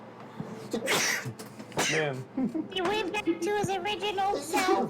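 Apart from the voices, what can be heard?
sneeze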